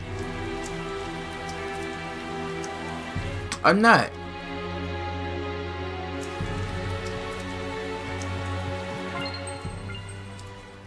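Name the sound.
rain in video game Tales of Zestiria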